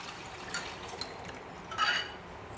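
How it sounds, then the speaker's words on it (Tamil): Tamarind water poured into tempered onions for paruppu urundai kuzhambu makes a soft, close liquid splash and gurgle, swelling briefly near the end, over a low background hiss. "இப்போ கரைச்சி வச்சுருக்கோம் இல்லையா இந்த புளி கரைசல், அது நல்லா கலந்து விட்டு இந்த வெங்காயம் தாளித்ததில் கொட்டிக்கலாம்"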